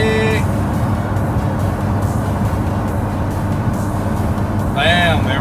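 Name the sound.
2018 Ford GT engine running on a dyno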